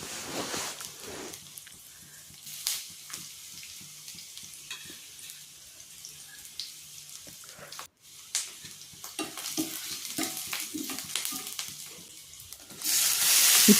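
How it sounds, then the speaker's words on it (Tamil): Garlic and large onion frying in hot oil in a pan, a soft continuous sizzle with scattered stirring clicks and scrapes, close by, with a brief dropout midway and a louder burst at the end. "எண்ணெய் காய வச்சு வெள்ளைப்பூடை போட்டு அது கூட ஒரு வெங்காயம் போட்டுக்கலாம், பெரிய வெங்காயம்."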